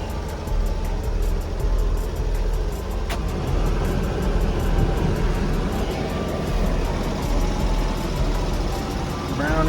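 A four-wheel-drive Honda Acty Town Edition mini truck with 114,000 km idles steadily after starting, a continuous low engine rumble filling the whole stretch alongside broadband road-like noise.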